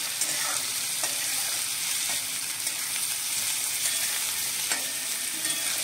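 Cut tomato fries with browned onion in a pan, a constant hissing sizzle close by with a few faint scrapes of a stirring spoon, no voices heard.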